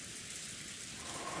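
Steady rain from a visual novel game's soundscape, a dense even hiss with a soft low patter, constant and fairly close, with no voices over it.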